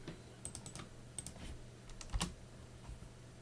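Light typing on a computer keyboard: a few short clusters of quiet key taps, with one sharper keystroke near the middle, over a faint hum.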